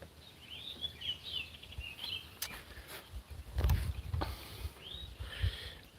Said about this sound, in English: Yeah, the birds are singing.